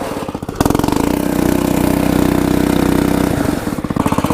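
Motorcycle fitted with an FMF Super Power Core 6.9 Factory Edition exhaust, running loud and close, a brief idle swelling into a sustained raspy high rev that holds for about three seconds before dropping back to a choppy idle.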